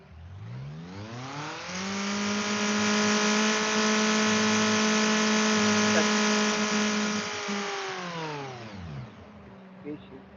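A car engine revs up during a MAF sensor test, rising from idle to full throttle, holding a loud steady high drone for several seconds, then falling back to idle, close to the microphone.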